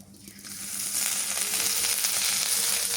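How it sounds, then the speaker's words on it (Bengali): Mustard oil hits a pan of onion and green chilies and swells within a second into a loud, steady hiss of frying that holds to the end, with no voices. "এবার সরিষার তেল দিয়ে দিই"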